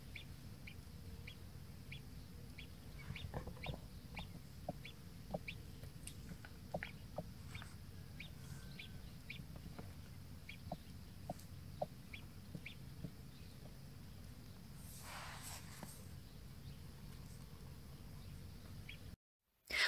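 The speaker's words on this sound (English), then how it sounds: "the cheeping that you can hear in the video, if you listen carefully, are the chicks in the eggs starting to call to each other" Chicks inside eggs cheep under a broody hen on hatching day, giving faint, scattered high peeps throughout over a soft, steady low background, with no talking.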